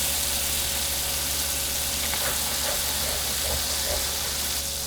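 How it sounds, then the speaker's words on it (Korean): Spinach stir-fries in an open pan as its liquid cooks down, giving a steady, close sizzle and hiss with a few faint clinks of stirring. "시금치 숨이 죽으면 뚜껑을 열고 국물이 다 졸아들 때까지 볶아줍니다"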